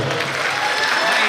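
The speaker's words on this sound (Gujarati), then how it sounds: "જોરદાર તાળી." Loud, sustained applause from an audience at a women's gathering and sarod festival, dense clapping that stays strong and even for the whole moment.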